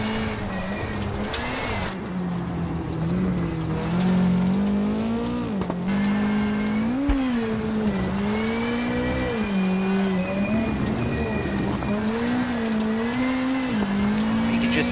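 A rally car on a stage in the WRC 7 video game (Rally Italy, WRC2 class) drives with a loud continuous engine drone rising and falling through gear changes, with gravel and tire noise throughout.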